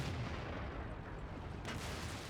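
The main gun of a Caernarvon tank fires in a video game: one distant, muffled blast over a low rumbling battlefield background.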